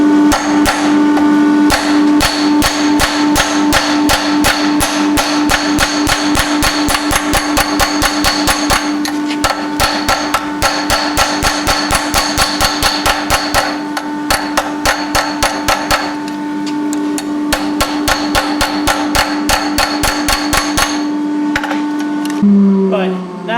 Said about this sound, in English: Using a slightly smaller hammer, lighter hammer, I'm going to take out any of the imperfections that are in the on the surface